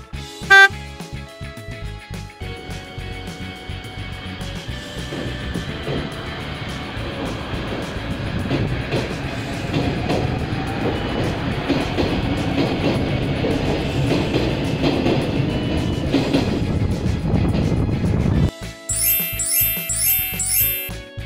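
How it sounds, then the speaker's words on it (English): A metro train runs on rails through a tunnel, a loud, steady rumbling roar with rattling wheels that lasts most of the stretch, framed by short bursts of music at the start and end. "The metro train runs on rails in the tunnel."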